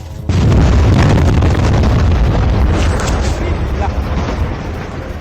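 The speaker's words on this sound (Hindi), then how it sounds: "इजराइल का आईईडी से गाजा के टनल में कैसे किया गया विस्फोट, ये आपने देखा" Loud blast from an IED detonated inside a Hamas tunnel in Gaza, in news footage: a sharp onset followed by a sustained, dense rumbling roar of debris that slowly fades over several seconds.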